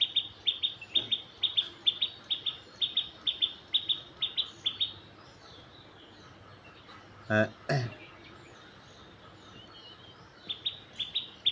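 Birds chirp above a fish pond in Madhabpur, Habiganj: a quick run of short, bright tweets in a rhythmic series, then a brief louder burst and a few scattered calls, over quiet background.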